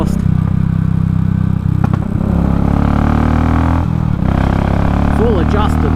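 A Royal Enfield motorcycle fitted with a Race Dynamics Powertronic tuning module is ridden on the road. Its exhaust gives a steady, loud engine drone with a few revving swells, and a voice is partly heard over it.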